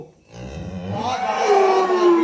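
A milking cow lets out one long, loud moo close by. The call rises and holds steady for about two seconds, with a little low rustling just before it.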